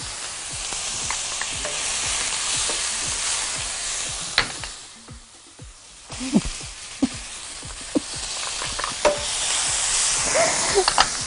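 Onion and garlic fry in oil for a minced-meat and potato-ball tray, giving a steady close sizzle with scattered spoon clicks and stirring. The sizzle dips to near quiet briefly midway, then returns with sharper taps.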